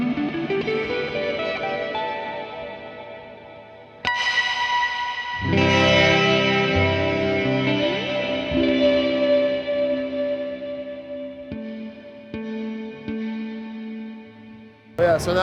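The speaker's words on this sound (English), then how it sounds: "as I go back down, we're returning to the bright reverb" Electric guitar through a GameChanger MOD pedal set to bright reverb, with sustained chords and single notes blooming into a shimmering, echoing wash that swells and decays across the phrase, played alone without talk.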